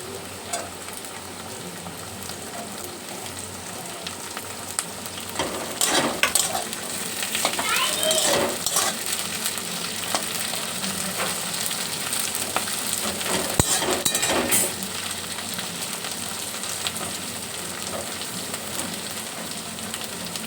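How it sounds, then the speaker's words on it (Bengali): Rice fries with beans in a pan, a steady loud sizzle with bursts of stirring and scraping in the middle stretch; no speech. "ভাত শেষের দিক করে ভাজা মোটামুটি হয়ে গেছে।"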